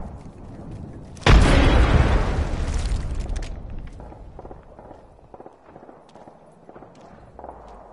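A frag grenade blows up in Apex Legends with a sudden loud, close boom that rolls off over a couple of seconds, followed by faint footsteps and game sounds.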